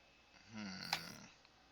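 Faint, distant snoring deep inside a cave, a single drawn-out rumbling breath that swells and fades, echoing softly from far off.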